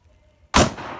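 A single loud revolver gunshot at an outdoor shooting range, a sharp close blast with a lingering rumbling echo after a quiet moment; the gun is an S&W 629 or Ruger Super Blackhawk.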